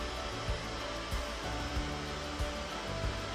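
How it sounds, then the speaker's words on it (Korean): A handheld hair dryer blows steadily at close range while drying hair at the roots after a shampoo, a constant airy whoosh with faint soft bumps recurring about every half second. "드라이기 열을 주고 손으로 밀어 올려주세요."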